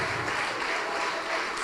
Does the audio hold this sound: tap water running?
no